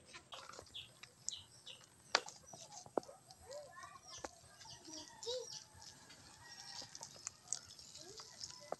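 Backyard chickens cluck in scattered bursts from near and farther off, with faint chirps between them under quiet outdoor ambience.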